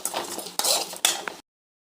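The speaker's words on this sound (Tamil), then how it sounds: "நல்லா வதக்கலாம்." A spoon stirs sautéing potato fry in a kadai with garlic paste and curry leaves, giving scraping, clinking strokes in three bursts over a soft sizzle before the sound stops abruptly.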